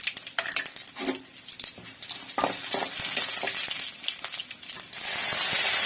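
Dried red chillies with mustard seeds and chana dal frying in hot oil for a Tamil banana stem poriyal, crackling and sizzling in bursts with a spoon stirring and scraping the pan, rising to a loud steady sizzle near the end.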